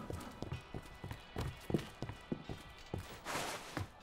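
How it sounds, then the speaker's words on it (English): Horses' hooves clip-clop in the video game Dead Rising Deluxe Remaster, a steady run of sharp, evenly spaced hoof strikes at moderate loudness with a faint background wash and no talk. "Oh, those are horses."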